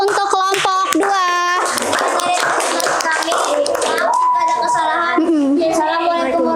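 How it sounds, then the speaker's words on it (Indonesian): Classroom applause for a presenting student group, sustained clapping from many hands across the whole stretch, with children's voices and chatter mixed in over it. "Kita beri aplaus dulu untuk kelompok 2."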